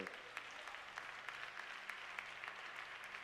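A church congregation applauds steadily, many hands clapping at a moderate distance, with a low sustained musical tone droning beneath the clapping.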